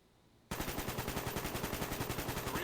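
An AK47 rifle fitted with a reflex sight opens up after a brief quiet moment, firing a rapid, continuous automatic burst of evenly spaced loud shots.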